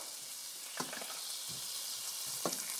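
Sweet peppers frying in olive oil, a steady hiss of sizzling oil with a few soft stirring knocks at intervals, close and fairly quiet, no voices.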